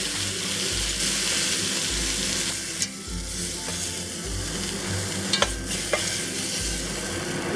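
Beef browns in oil in a pot, giving a steady close sizzle and frying crackle, with occasional stirring scrapes and clinks and no talking.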